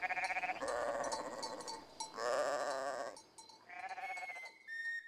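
A flock of sheep bleating in overlapping calls, close and loud, with several voices layered and no talk.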